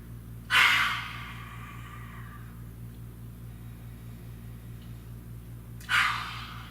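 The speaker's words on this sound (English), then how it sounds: "So I'm taking a deep breath." A person takes two slow, deep breaths spaced several seconds apart. Each audible inhale builds into a soft, breathy release, close to the microphone over a low steady hum.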